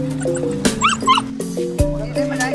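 Several dogs at a Yulin dog market yip, bark and whimper in short overlapping bursts, close by and fairly loud, with faint voices in the background.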